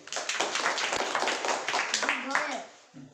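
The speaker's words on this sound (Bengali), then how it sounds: "ঠিক আছে চলো হাততালি" Children in a study class clap together in a brisk, dense burst of hand claps lasting a couple of seconds, then the clapping fades as young voices talk.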